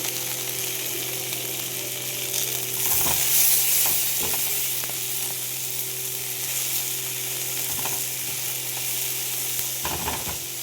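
Tomatoes and ginger sizzle steadily as they fry in a pan for mung dal with vegetables, a continuous close crackle with occasional stirring clatters and no talk.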